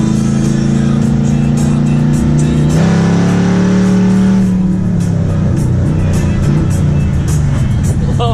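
An LS3 V8 in a 1955 Chevy Nomad with open exhaust revs hard and close, a loud deep burbling roar that climbs in pitch, drops back and swells again.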